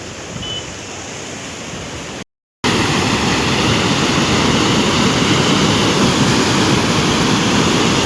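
Steady, loud rushing of the fast-flowing, rising Godavari River in Nashik district after rain, a dense continuous roar with one brief dropout near the start.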